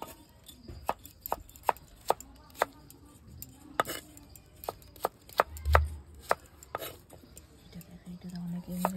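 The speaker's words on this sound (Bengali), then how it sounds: "এবার কাটবো মূলো।" A bonti blade cuts radish and potato, giving sharp, irregular chopping taps close by, some sharper than others, with someone talking quietly in between.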